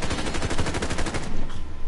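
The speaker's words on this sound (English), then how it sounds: "They're getting shot on the left." Rapid automatic gunfire in the Call of Duty video game rattles off in a fast, even burst of close, loud shots, then fades into a noisy tail.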